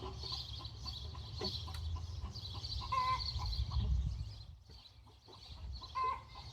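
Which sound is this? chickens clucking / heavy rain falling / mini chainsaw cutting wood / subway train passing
chickens clucking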